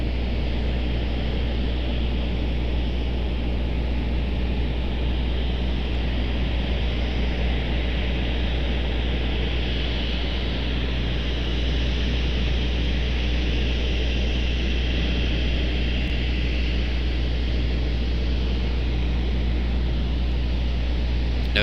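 A JetBlue airliner at Raleigh-Durham airport gives off a steady, broad jet roar that holds at a constant level for the full stretch, with no talking.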